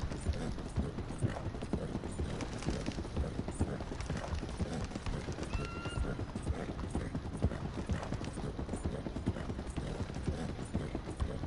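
Rapid, rhythmic hoofbeats of a galloping horse in a PS4 video game clatter continuously, with a brief tonal chime partway through.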